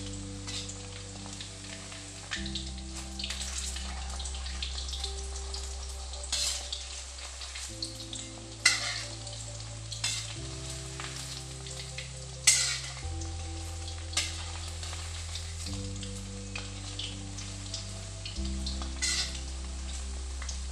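Chicken Manchurian frying in a pan, a continuous oil sizzle with occasional stirring clicks and scrapes over a low steady hum.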